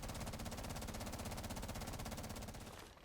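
Rapid automatic gunfire from a weapon with an F2 extended barrel in the Rainbow Six Siege shooting range, a dense, steady stream of shots fired continuously at a wall for about three seconds before cutting off.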